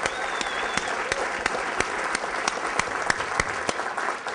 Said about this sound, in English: give you guys a big round of applause